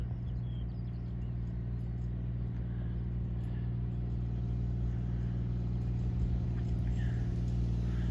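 A farm vehicle carrying a sprayer with a shrouded nozzle drives along a field edge, its engine giving a steady, close, continuous rumble with no speech.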